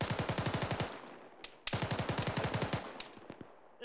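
Two long automatic bursts from a squad-training shooter game, rapid evenly spaced rounds ringing out loud and close, each burst followed by a few scattered single shots.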